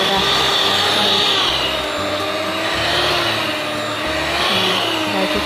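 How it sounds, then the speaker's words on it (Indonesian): An electric mixer works a flour dough with a loud, steady motor whine and a rhythmic rumble that swells and falls every second or so. "matikan mixer."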